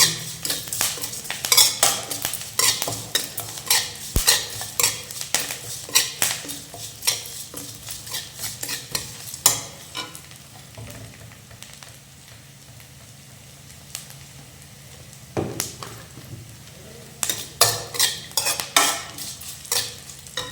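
A spoon or ladle stirs and scrapes repeatedly in a metal pan while lemon rice seasoning with rock salt fries. The clatter is steady and close, with a soft sizzle underneath and a brief quieter stretch midway.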